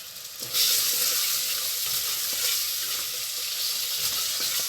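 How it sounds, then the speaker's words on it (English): Tomatoes hit frying onions in a hot pan, and the sizzle jumps into a loud, steady hiss with faint stirring clicks throughout. "Alright, the onions are looking about right, so it's time for the tomatoes to go in."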